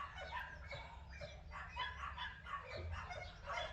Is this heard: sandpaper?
no